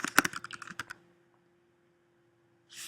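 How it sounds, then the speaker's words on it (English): Fast bursts of typing on a computer keyboard, a quick run of clicks lasting about a second, then silence before a brief faint rustle at the end. "So you'll type my name in there"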